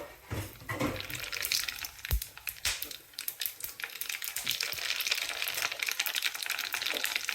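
Mustard seeds and spices, with dried red chili, cinnamon, cloves and curry leaves, hit hot oil for a kadhi tempering, giving a steady, faint crackling sizzle with small pops, rising slightly toward the end.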